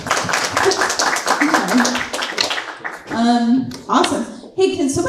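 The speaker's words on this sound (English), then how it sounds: "Yeah, clap." Clapping breaks out among an audience at a startup pitch event, a brief burst of overlapping hand claps in the first few seconds, then giving way to a person talking.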